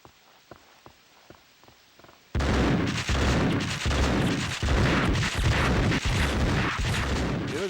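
Enemy gunfire in the video game Max Payne 2: faint isolated shots at first, then a loud, sustained barrage of rapid overlapping gunshots and booms at close range with no talking.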